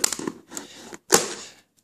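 A blade cuts open a manga shipping package in short, scratchy rasps: a quick run of slicing strokes, a pause, then one louder, longer cut, all close by.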